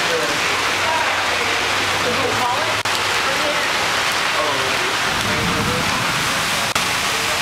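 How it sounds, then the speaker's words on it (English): Heavy rain pours steadily at a city bus stop, a dense continuous hiss of drops hitting pavement and shelters, close and loud throughout, with faint voices murmuring underneath. "showing all these people getting rained on."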